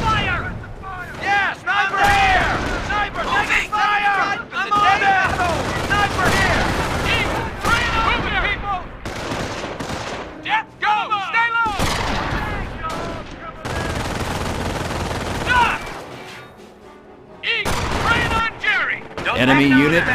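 Company of Heroes wartime combat in Normandy around Carentan, with rifle and machine-gun fire and artillery crackling almost continuously, while soldiers shout callouts over the battle.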